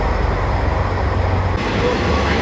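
JR Shikoku 1000 series diesel railcar running near Kochi Station as an out-of-service train, a steady loud rumble of engine and wheels throughout.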